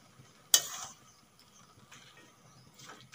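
Radish greens are being mixed with turmeric and salt in a frying pan: one sharp utensil scrape, then faint, soft stirring against quiet sizzling, close by and with no voices.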